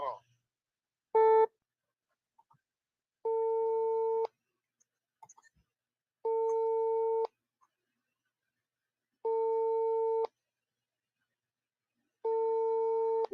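A phone call heard over speakerphone, a steady repeating electronic tone that sounds in regular bursts about one second long with two-second gaps, close and clear, with brief faint noises between the bursts.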